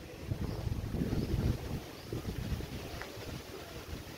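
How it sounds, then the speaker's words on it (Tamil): Wind gusting across an open farm, a broad rushing roar that swells and eases in uneven gusts, buffeting the microphone with low rumbles and no voices. "காற்று நல்லா தான் இருக்குது"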